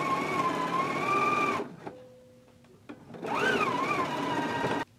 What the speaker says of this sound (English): So let's go ahead and stitch our hem in place now.